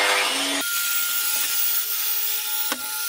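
A speed-controlled angle grinder with a brass rotary brush cleans a Land Rover Discovery turbocharger, first with a harsh, loud scrubbing, then a sustained high motor whine with a brief contact at the end.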